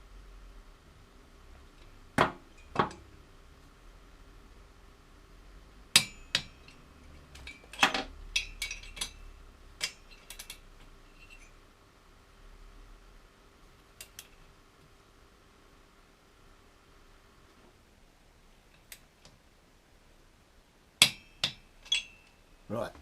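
A torque wrench tightening bolts to 15 newton meters gives sharp, isolated metallic clicks and ratchet snaps, arriving singly and in small clusters with quiet gaps between them, close and fairly crisp.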